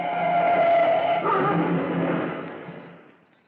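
A light delivery car races past ahead of a rolling fire ladder truck, its engine a loud close roar that shifts pitch midway and then fades quickly into the distance.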